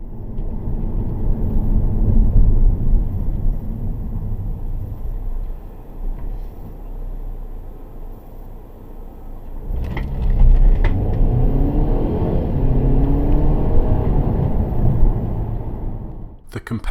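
Car engine and road rumble as a vehicle drives along and overtakes, steady and fairly loud throughout while someone talks over it.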